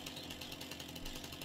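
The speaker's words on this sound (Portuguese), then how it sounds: "Eu vou ter que utilizar a motosserra aqui agora." A chainsaw in Farming Simulator 19 cuts through tree trunks, its engine a steady, continuous buzzing drone held close and loud throughout with no pauses.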